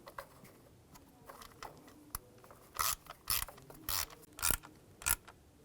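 A ratchet wrench clicks in several short bursts while tightening a bolt on a BMW 550i 4.8L V8 engine during a spark plug job, close and crisp with brief pauses between strokes.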